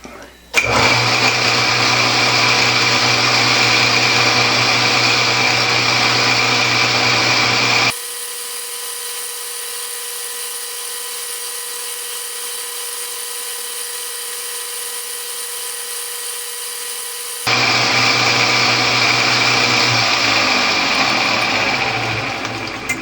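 A 5mm drill bores a hole in a Harbor Freight bandsaw part with a little oil, a steady loud high-pitched whine that runs, drops away for several seconds, then resumes at full strength.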